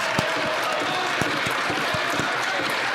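Applause rises in the Canadian House of Commons after a fiery speech on support for Ukraine, a dense steady wash of many hands clapping with a few sharper claps standing out, continuous across the clip.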